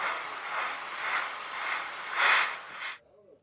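Spray paint hisses steadily from a can as a wet coat goes onto a Tekno RC ET48 body, rising in loudness and then cutting off abruptly after about three seconds, leaving near silence.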